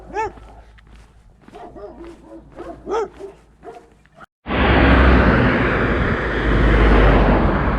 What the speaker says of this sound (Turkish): Yine koca koca köpekler karşılıyor bizi ve havlıyorlar